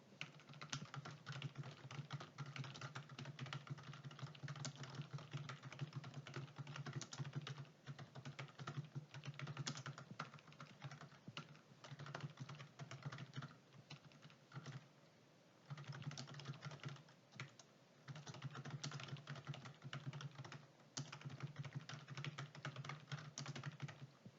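Steady, continuous keyboard typing with rapid clustered keystrokes, close and clear, pausing briefly midway before resuming; no voices.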